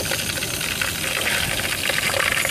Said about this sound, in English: Most of the crackling you hear is because the water in there is evaporating and splashing in the melting wax.